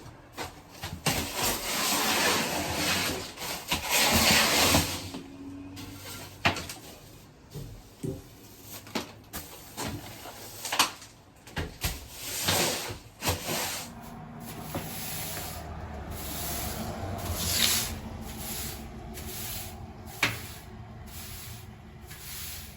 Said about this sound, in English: Time for a little rough in, spraying and wiping, just a little rough in.